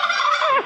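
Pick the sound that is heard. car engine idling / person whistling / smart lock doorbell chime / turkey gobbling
turkey gobbling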